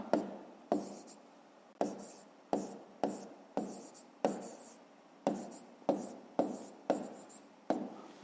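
A pen writes on paper while a 5th-grade math exercise is worked out, making about a dozen short, crisp scratching strokes in an uneven rhythm, close and fairly quiet.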